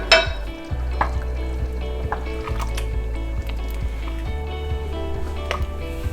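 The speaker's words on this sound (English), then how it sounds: "add the pasta sauce, add the tomato sauce, let it come to a bit of a simmer" Pasta sauce and tomato sauce simmering with meat for a gnocchi sauce, a low bubbling and soft sizzle under a steady rhythmic clatter of a utensil tapping the pot, no speech.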